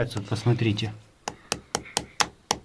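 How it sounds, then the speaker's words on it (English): Sharp hammer blows drive nails into a stone wall to fasten plastic film in a basement, coming as six evenly spaced, close knocks after a stretch of people talking. "We are fastening this film with nails."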